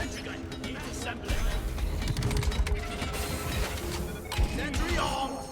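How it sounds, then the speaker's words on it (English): A sentry gun being assembled in Deep Rock Galactic gives off clicking, ratcheting mechanical clatter and clanks, with voices talking over it. "Sentry gun, need assembling."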